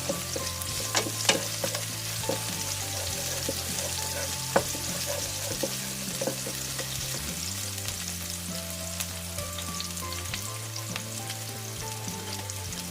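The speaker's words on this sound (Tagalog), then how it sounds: "Lutuin na natin yung ating alamang bagoong." Shrimp paste (alamang bagoong) fries with onion and garlic in a pan, making a continuous crackling sizzle with scattered stirring clinks, close and steady throughout.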